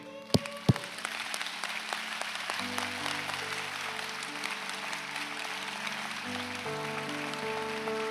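An audience at a son's eulogy for his father claps in a sustained, dense round of applause, starting with a couple of sharp claps and then holding steady and fairly loud throughout.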